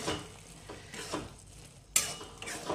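A spoon stirs soybean veg bhurji in hot oil, giving close, scraping strokes against the pan with a faint sizzle beneath and one sharper metallic clink near the end, no voices.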